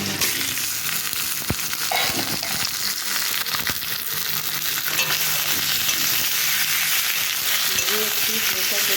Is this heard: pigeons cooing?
no